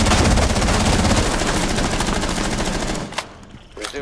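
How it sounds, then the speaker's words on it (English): Rapid automatic gunfire in Rainbow Six Siege, shot through a wall in a house during a team deathmatch, roars loud and continuous for about three seconds, then cuts off, leaving a couple of brief sharp bursts. "I'm gonna start shooting through the wall"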